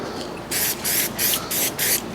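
Brake cleaner sprayed from an aerosol can onto stripped car parts in a salvage project: four loud, close hissing bursts of about half a second each, separated by short pauses, with no talking.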